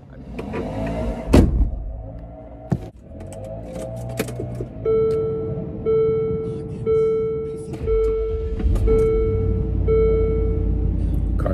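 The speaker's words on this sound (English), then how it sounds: "Car starts right up." A 2000 Land Rover Discovery starting up, with a brief loud crank burst followed by a low idle rumble and a steady electronic chime pulsing in repeated beeps over the engine.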